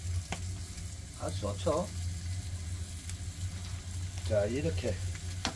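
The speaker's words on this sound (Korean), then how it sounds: "지글지글 소리 나는가요?" Pork belly sizzles and crackles steadily on a thick natural stone slab heated over a wood fire, a continuous close frying hiss beneath someone talking.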